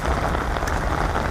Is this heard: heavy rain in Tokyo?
yes